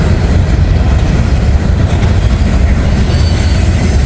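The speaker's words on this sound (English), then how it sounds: "The 558 south of Hamilton's always a real good train, loaded" A long loaded freight train, the 558, rolls past south of Hamilton in cold weather, a loud, steady rumble of wagons with rhythmic clatter and a faint wheel squeal throughout.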